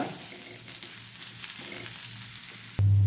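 Bitter gourd shallow frying in a pan produces a loud, continuous close sizzle with occasional stirring scrapes, steady throughout before a sudden low hum joins near the end; no speech.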